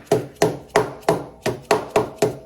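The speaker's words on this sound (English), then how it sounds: "Let's get a little whacker going here." Eight sharp, evenly spaced hammer taps on a brake part during a master cylinder repair, each a crisp knock with a quick decay, close and clear with no voices.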